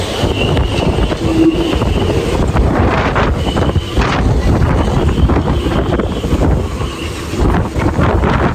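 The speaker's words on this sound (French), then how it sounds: "Ça souffle très fort." Strong gale wind in a marina roars steadily and loudly against the microphone, a constant buffeting rush with no break across the whole stretch.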